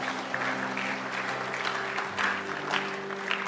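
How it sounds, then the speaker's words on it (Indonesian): Church congregation applause, a steady wash of clapping over a sustained droning tone, moderately loud and continuous throughout. "berikan tepuk tangan buat Tuhan"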